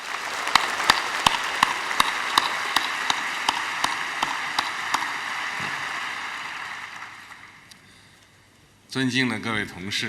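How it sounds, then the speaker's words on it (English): Applause at a Beijing summit opening, heard as distinct rhythmic claps over a soft crowd hiss, tapering off into near silence before a voice begins speaking near the end. "Let us welcome them with a warm round of applause."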